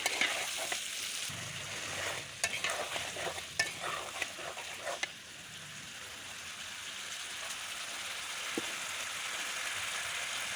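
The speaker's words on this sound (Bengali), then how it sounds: "বেশ সুন্দর মতো আমার কষানো হয়ে গেছে" Drumstick stems sautéing in a pan with rohu fish, prawns and tomato, a close sizzle with scraping stirs and clatter in the first half, then a softer steady frying hiss, no voices.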